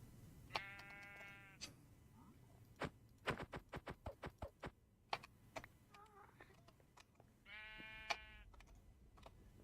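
Sheep in Minecraft bleat twice in short, ringing game-sound bursts near the start and end, with a run of sharp rhythmic clicks and taps filling the middle.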